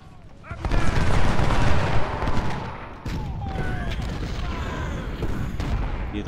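Cannon and artillery fire in the Civil War strategy game Ultimate General: Civil War, a dense, continuous battle roar of booms and rumbling gunfire that swells after a quiet start and keeps going loud throughout.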